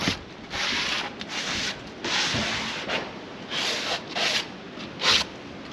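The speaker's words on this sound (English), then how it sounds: "Just a little sanding sponge." A sanding sponge rubbing burrs off the edges of wall sheathing in repeated short scrubbing strokes, close and fairly loud, with a pause between each pass.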